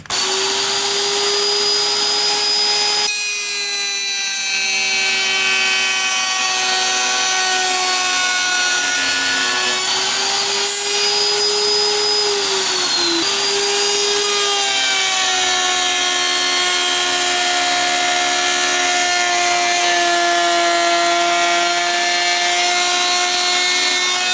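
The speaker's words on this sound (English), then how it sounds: "We'll run it through there, and it'll make a perfect straight cut." A router cuts along a diamond trim panel for a lifted truck interior, a loud, steady high-pitched whine and grind close by, its pitch dipping and shifting slightly as the cut continues without pause.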